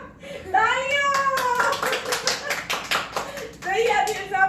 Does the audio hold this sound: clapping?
yes